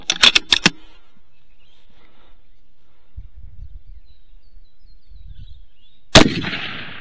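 A single sharp rifle shot near the end of rifle scope training, loud and close with a brief decaying tail, coming after a quick burst of clicks and long stretches of near silence.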